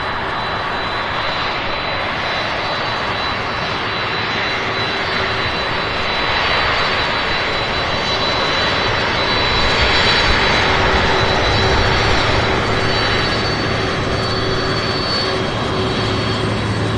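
Jet engines of a Boeing 767 roar steadily on an airport ramp, a loud, close, continuous whine and rumble that swells slightly midway and carries on without a break, with no talking.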